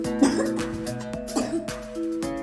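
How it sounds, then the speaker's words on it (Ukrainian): A couple of short coughs from a child, close by, over a faint steady electronic tone in the background. "знову кашель є"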